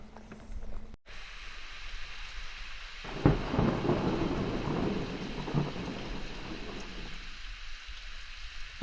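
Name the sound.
thunderstorm with rain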